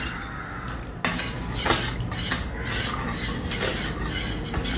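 A spoon scraping and stirring melted soap base for homemade clove and tulsi soap in a pot, with close, steady rubbing and clinking strokes against the metal.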